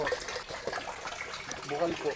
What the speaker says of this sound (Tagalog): natural source ng tubig.